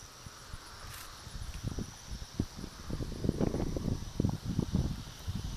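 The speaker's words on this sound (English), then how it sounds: "There's a lot of wind right now" Wind gusts against the microphone beside a pond with reeds, an uneven buffeting rumble that swells and fades in irregular bursts, close and fairly faint.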